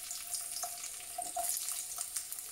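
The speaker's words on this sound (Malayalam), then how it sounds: "ഇഞ്ചി, വെളുത്തുള്ളിയും പച്ചമുളകും നമുക്ക് ചേർത്തൊന്ന് വഴറ്റിയെടുക്കാം." Garlic, ginger and green chilli sizzle steadily in hot oil, a continuous crackling fry with faint stirring clicks, close and moderately loud with no talk.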